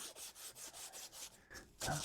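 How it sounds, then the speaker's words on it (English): Emery cloth scrubs a metal radius arm part on a 1973-1979 Ford truck in quick, even back-and-forth strokes, close and faint, ending in a slightly louder scrape. "I got a little bit of emery cloth here. So I'm just going to clean up this a little bit"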